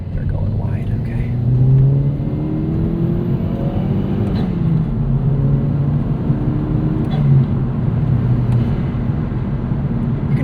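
A 2009 Chevrolet Cobalt SS with a turbo engine accelerates hard through a corner, its steady close engine drone rising slightly in pitch, with a person talking over it throughout.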